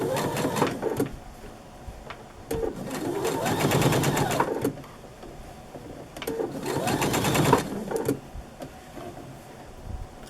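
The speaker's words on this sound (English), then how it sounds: "I put my presser foot down and begin to stitch, and I will stitch exactly the same way around this curve" Sewing machine stitching a curved seam on a Rob Peter to Pay Paul quilt block, delivered in three rapid rattling bursts separated by short pauses, close and fairly loud.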